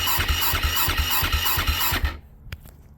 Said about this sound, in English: And now I'll fire it up for you guys.